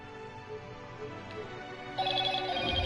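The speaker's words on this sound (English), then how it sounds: "My phone keep chiming and shit for no reason." A smartphone chimes on its own with a short, bright electronic tone that rises suddenly near the end, heard fairly close in a quiet room during a home gaming livestream.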